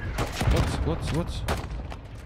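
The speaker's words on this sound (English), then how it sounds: "Someone is using mortar strike on us." Mortar strike explosions and gunfire from Call of Duty Warzone on Rebirth Island, a dense run of bursts with booming low thumps, with voices talking over the game action.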